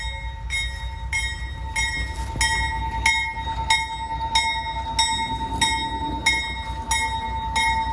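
A train backs up along the line, its steady low rumble under a regular series of sharp metallic clicks repeating about every half second, with a thin tonal whine held throughout.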